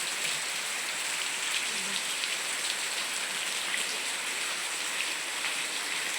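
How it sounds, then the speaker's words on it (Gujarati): Heavy rain pounds down in a constant, dense roar of drops, close and unbroken throughout with no voices. "વરસાદ પડે છે જોરદાર એકદમ"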